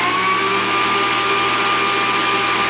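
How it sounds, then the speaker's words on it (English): A kitchen blender switched on by a smart speaker roars steadily at close range for the whole stretch, with a constant whirring motor drone and no pauses or talk. "now, it turns on the blender."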